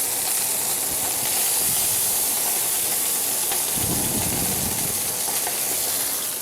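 Onion, celery, carrot and fresh herbs sizzle in a hot pan for gravy, a loud, steady frying hiss that swells with a burst of crackle midway.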